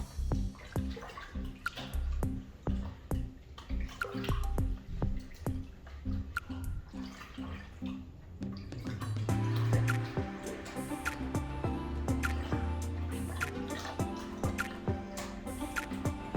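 Runny Natrosol slime is stirred and squished, giving wet dripping and sloshing sounds that grow denser and fuller partway through, close and moderately loud.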